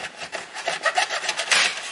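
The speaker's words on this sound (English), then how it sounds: "So I've got my little X-Acto hobby knife." An X-Acto hobby knife scrapes and cuts into a solvent-welded plastic post, giving close, dry rasping strokes in a quick uneven rhythm.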